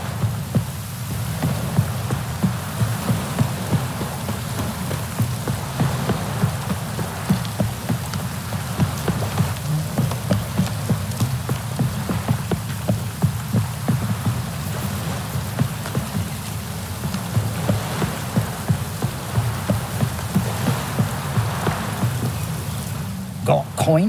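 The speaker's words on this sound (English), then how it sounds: "Looks like rain." Rain falls steadily in The Witcher 3: Wild Hunt, a dense, continuous patter on surfaces with a low background hum, heard alone throughout.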